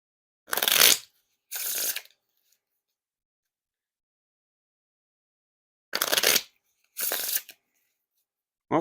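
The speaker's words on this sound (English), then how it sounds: "pretty nice riffle shuffles and bridge shuffles there" Bicycle playing cards are riffle shuffled and bridged, close up, in four short crisp bursts of fluttering card riffles separated by quiet pauses.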